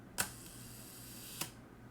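The mechanical timer on a Graflex Graphic 35 35mm film camera shutter runs between two sharp, crisp clicks spaced about a second apart, quiet and close, with a faint whir in between.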